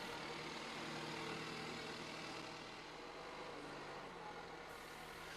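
Steady drone of a backhoe excavator engine running as the machine carries a loaded bucket low toward a trench, a faint, even mechanical hum with no talk.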